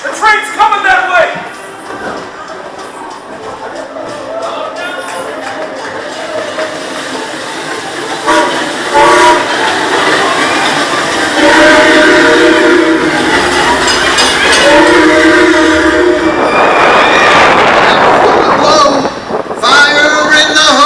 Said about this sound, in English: The train's coming that way.